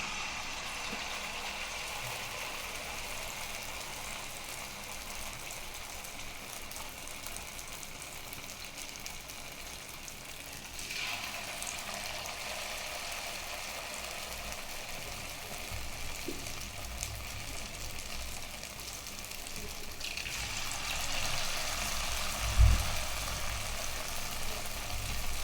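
Batter-dipped susiyam dumplings frying in hot oil in a kadai, a steady broadband hiss and bubbling that swells in two waves as pieces go in, with a faint low hum beneath and no talk.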